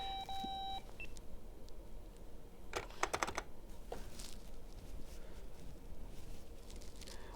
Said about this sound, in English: oh, more beeping.